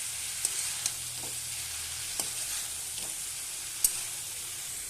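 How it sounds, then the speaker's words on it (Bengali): Chopped bottle gourd stirred in a pan of frying egg curry, a soft steady sizzle with a few sharp spoon-on-pan clicks scattered through it, fairly quiet and close. "এবার ভালোভাবে নেড়ে নেব।"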